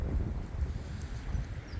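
Gusty wind buffets an outdoor microphone on a very windy morning, low rumbling thumps that rise and fall irregularly across the short stretch, close and loud, with no voices.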